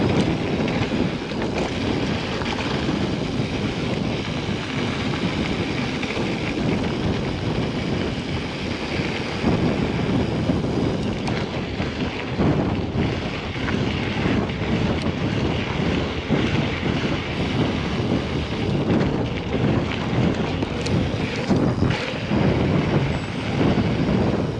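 Wind buffets the GoPro Hero 8 Media Mod microphone while mountain biking downhill, a steady loud broadband rumble and roar with gusty low-end surges throughout and no talking.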